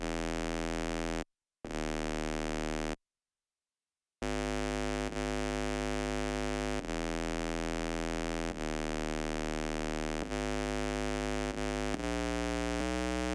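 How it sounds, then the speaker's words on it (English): A dense, distorted Serum synth sub bass drones in steady sustained notes, changing pitch every second or two, with two brief dropouts near the start. "I used a distorted sub that I made in"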